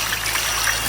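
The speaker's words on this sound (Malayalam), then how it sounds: "ഇനി കുറച്ച് വെള്ളം ഒഴിക്കുക" Water pours into a cooking pot over an outdoor fire for beef crackling, a brief, steady trickling stream heard alone and fairly close.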